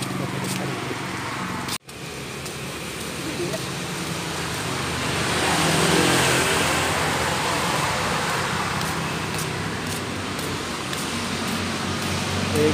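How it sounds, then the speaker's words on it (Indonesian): A car passes on a city street in Kecamatan Jambi Selatan, Jambi, a steady broadband road rush that swells toward the middle and eases off, heard amid outdoor street ambience. "Ada mobil."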